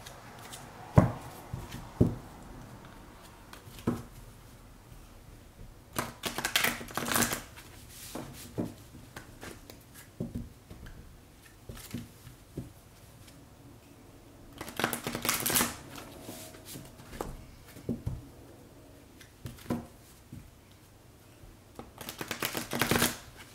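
Oracle cards shuffled by hand in a quiet room, giving scattered soft riffles and dense clattering bursts at irregular intervals, close by and fairly faint, with no talking.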